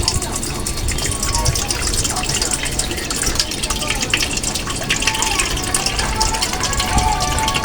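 Coconut water from young green coconuts pours in a continuous, close gushing stream, loud and unbroken throughout.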